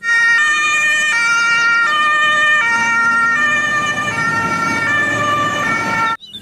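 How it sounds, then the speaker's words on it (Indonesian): A toy siren wails in steady repeating two-tone cycles, loud and close, with a mechanical whir underneath, cutting off abruptly at the end. "Ternyata yang ini truk pemadam kebakaran."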